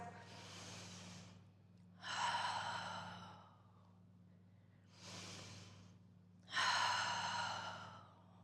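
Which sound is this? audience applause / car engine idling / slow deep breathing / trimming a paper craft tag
slow deep breathing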